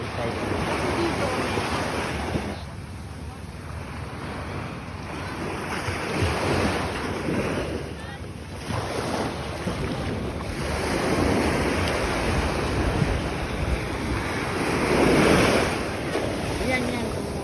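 Sea waves at high tide on an uneven shore, a steady roaring wash of surf with wind buffeting the microphone, rising and falling in surges throughout, continuous and fairly loud.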